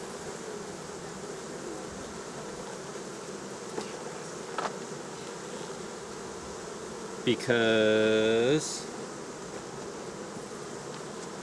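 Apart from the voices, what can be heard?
honey bees buzzing around an open hive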